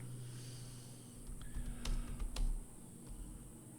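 A computer keyboard is being typed on to enter a question, giving a short run of sharp, close key clicks in the middle amid faint breathing and low room noise.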